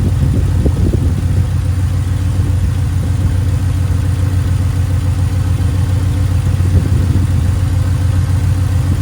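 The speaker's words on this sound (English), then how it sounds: "It's just weird that the idle keeps moving around." An old truck engine idles unevenly up close, a loud, steady low rumble with slight wavering in pitch and roughness throughout.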